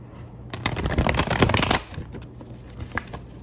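A giant deck of cards is shuffled in a quick flurry of riffling and slapping, followed by a few softer shuffling clicks.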